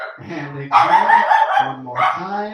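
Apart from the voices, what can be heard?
dog barking outside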